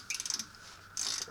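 A long socket on a ratchet tightening a CV axle nut on a 1989 Nissan D21 Hardbody pickup, two short bursts of rapid clicking separated by a pause, close and fairly loud.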